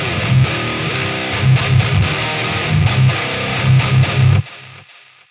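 A heavily distorted electric guitar through an amp simulator plays chugging metal riffs with sustained chords, then cuts off and rings down into near silence.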